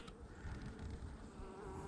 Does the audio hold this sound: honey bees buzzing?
yes